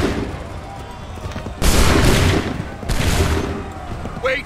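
Massed musket volleys in Assassin's Creed 3 crash out in two loud rolling bursts of overlapping gunfire, set over battlefield noise and shouted commands.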